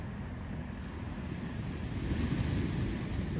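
Morning sea waves at Kashid beach, a low continuous roar of surf washing in, mixed with wind buffeting the microphone, steady throughout and free of voices.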